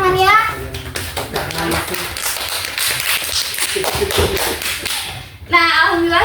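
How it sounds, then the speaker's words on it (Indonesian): Schoolchildren clapping their hands in a class, a sharp burst of many quick claps and taps, close and loud, with children's voices and an adult voice at the start and end. "Boleh kasih tepuk tangan ya?"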